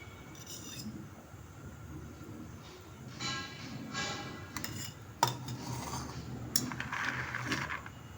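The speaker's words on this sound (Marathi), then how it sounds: "आधी आपण यात बदाम भाजून घेऊ" Almonds roasting in a spoonful of ghee in a pan, heard as faint rubbing and scraping of a spoon stirring, with a couple of sharp metallic clinks and a low background hum, no speech.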